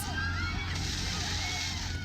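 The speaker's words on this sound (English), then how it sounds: "And water cannons spraying down protesters." Police water cannons spraying protesters in Israel: rushing, sloshing water spraying hard and continuously, with a faint crowd murmur underneath.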